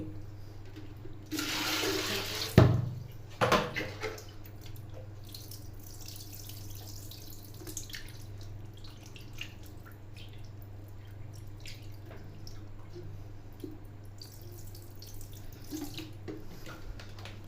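Water splashes and pours in a brief burst near the start as a cow is bathed, then a quieter trickle and drips continue over a steady low hum.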